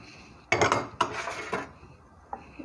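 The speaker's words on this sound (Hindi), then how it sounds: "इसको चम्मच से हिलाएंगे।" A spoon scrapes and clinks against a metal pot while sweet seviyan zarda is stirred, coloured with yellow zarda food colour, in a home kitchen; two or three close, bright strokes follow one another, then a faint tap.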